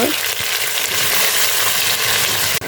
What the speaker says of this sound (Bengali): এখন দিয়ে দেবো এই যে পিস পিস করে ছোটো ছোটো করে কেটে রাখা মাংস